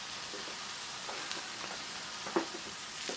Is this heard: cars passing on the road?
no